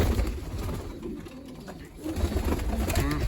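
Pigeons coo softly and repeatedly in a loft where a mother pigeon sits on her eggs, the low calls continuing steadily throughout with some background rustle.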